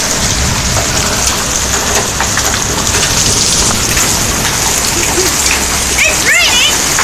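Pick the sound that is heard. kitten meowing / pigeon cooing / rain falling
rain falling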